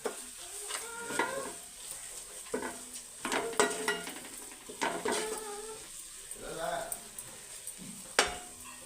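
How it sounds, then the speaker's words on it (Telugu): Cumin, coriander and masala powders cook in oil in a pan, with a soft sizzle and repeated spoon-stirring scrapes, the scraping clearer in places, while someone speaks over the cooking. "జీలకర్ర పొడి ఓ చెంచా ధనియాల పొడి చెంచానర అర చెంచా మసాలా పొడి ఈ మాయ నూనెలో మగ్గి పెట్టుకుందాం ఇలా"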